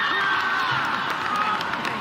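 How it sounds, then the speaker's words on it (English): Arena crowd at a Las Vegas obstacle-course competition final cheering, whooping and applauding steadily for two seconds, a dense continuous roar with scattered shouts. "We've got the fans back out here cheering him on."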